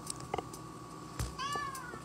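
A cat meows in a home kitchen, one short rising meow near the end over faint clatter and background hum, fairly quiet and close.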